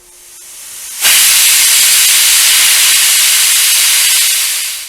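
After a second of near quiet, a pressure cooker lets loose a loud, steady rush of escaping steam that keeps hissing at full force to the end, easing only slightly near the finish.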